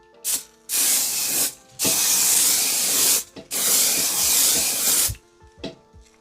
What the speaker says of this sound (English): because it's a continuous spray, it is very cooling.